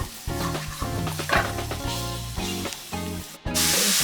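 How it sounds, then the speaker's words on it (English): Minced celery and carrots sizzle in a pan for duck soup, a steady broadband frying hiss with stirring clatter and faint background music-like tones, ending in a louder burst of sizzle. "Time for celery and the carrots to go in there."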